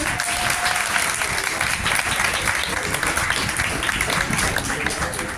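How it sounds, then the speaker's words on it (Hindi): Loud applause from an audience at a college farewell party, dense continuous clapping sustained evenly throughout without a break. "इसी बात पर जोरदार तालियां हो जाए"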